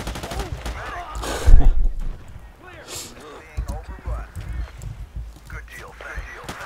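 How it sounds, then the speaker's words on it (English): Automatic M4A1 carbine fire in Battlefield 2 multiplayer, with a loud burst followed by scattered shots in the background while someone talks over the action. "Automatic fire is never a good idea in Battlefield 2."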